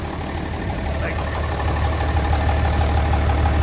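An old 766 tractor engine idling, a steady low diesel rumble with a mechanical knocking texture, close and continuous throughout.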